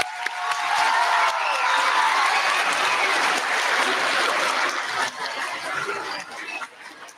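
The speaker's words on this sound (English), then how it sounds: "Let's give them another round of applause." A crowd at a Veterans Day event applauds loudly and steadily after a performance, a dense wash of clapping that slowly thins out toward the end.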